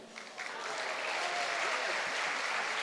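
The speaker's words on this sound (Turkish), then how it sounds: "Alkışlar çok zayıf." Concert audience applause swells quickly from a quiet start into a steady, fairly faint wash of clapping, modest in strength and without distinct cheers.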